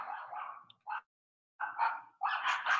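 A dog barks in short bursts nearby, a few rapid yappy barks with brief silences between, fairly faint and alone.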